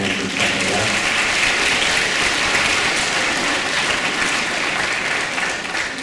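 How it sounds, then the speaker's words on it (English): An audience at a middle school eighth-grade moving-up and awards ceremony gives a steady, full round of applause, loud and even from start to finish with no pauses. "please offer a round of applause to your parents"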